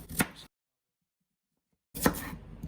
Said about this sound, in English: Just gonna rough chop it.